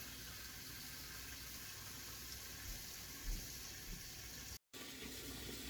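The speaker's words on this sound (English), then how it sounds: "Hot, clean water going in now" Hot clean water pours steadily into a pot of washed beef bones for pho broth, a continuous close filling rush with no talk, briefly cut out near the end.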